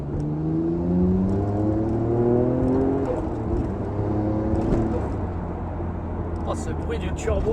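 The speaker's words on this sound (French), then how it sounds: "Oh, ce bruit du turbo là" Nissan Skyline GT-R R34 Nismo V-Spec accelerating, its turbocharged engine rising in pitch through steady sweeping tones, heard from inside the car with people talking over it.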